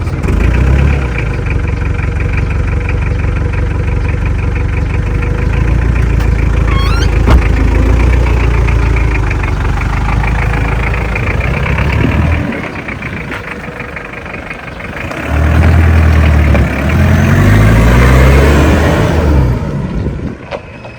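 A farm vehicle engine idles steadily up close for most of the time, a low continuous rumble that dips briefly near the end and then returns to a steady idle.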